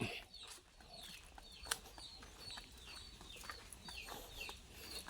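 A fighting rooster crows repeatedly amid clucking and other bird calls outdoors, moderately close, with faint background noise and no talking.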